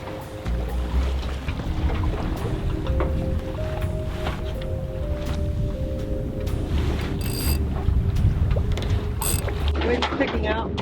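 Wind rushing over a sailboat at sea as the breeze builds, a steady broadband roar with low rumble and occasional creaks and clicks of rigging, continuous throughout with faint talk in the background.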